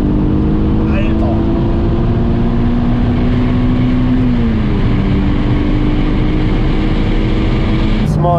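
A tuned Audi RS4 B5 sedan, rated at 693 hp, drones loudly and steadily throughout a 100-200 km/h acceleration run, heard from close inside with a sustained engine tone and voices over it.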